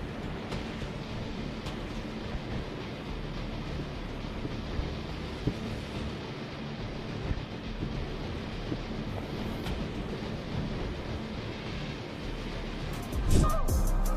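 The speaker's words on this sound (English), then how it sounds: "The waves crash fiercely, the wind howling through each gust." Continuous roaring wash of wind and surf, loud and broadband, with buffeting gusts against the microphone throughout and a sharper rush near the end.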